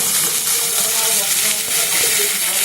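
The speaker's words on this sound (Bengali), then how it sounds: "এই কুচনো পেঁয়াজটা আমি তেলের মধ্যে দিয়ে দিয়েছি আর দিয়ে দেবো খাসির মাংস" Chopped onion and mutton frying together in hot oil, giving a loud, steady, close sizzle with stirring, no pauses.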